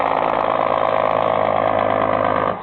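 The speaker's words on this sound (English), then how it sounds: "This is a big semi, so excuse the noise." A big semi truck's engine idles close by with a continuous loud, rough rumble that holds steady and eases off slightly at the very end.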